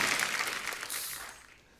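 Studio audience applause on a comedy talk-show stage, a dense wash of many clapping hands that stays steady, then thins and fades toward the end.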